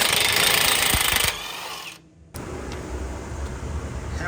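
Heavy rapid hammering on the front end of a Ram 2500 pickup during a suspension install, a loud close metallic clatter that stops abruptly, followed by a brief silence and then quieter workshop noise.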